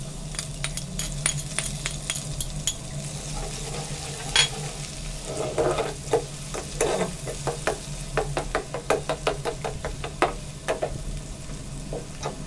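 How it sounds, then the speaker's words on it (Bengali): Chopped onion and garlic frying in soybean oil, a steady sizzle broken by a busy run of sharp spoon clicks and scrapes against the pot, with denser stirring toward the end. "ভালো করে ভেজে নেব পেঁয়াজ কুচিগুলো।"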